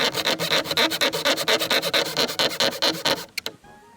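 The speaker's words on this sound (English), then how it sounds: "I used a different file to open the hole a little bit more" A metal file rasps steadily back and forth, enlarging a bolt hole for an RV door lock on a Jayco camper: close, rhythmic strokes for about three seconds, then a couple of clanks as it stops.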